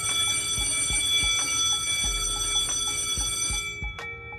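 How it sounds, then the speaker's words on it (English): A bright electric bell rings continuously and loudly for several seconds, a steady metallic ringing with sustained high tones and a faint repeating low pulse, cutting off abruptly near the end. "I gotta get my bell going, boys, so y'all can wake up."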